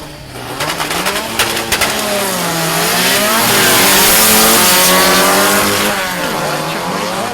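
VW drag race cars launch and accelerate hard at Mason Dixon Dragway, loud and close, with engine pitch climbing through gear changes over a roaring wash of noise.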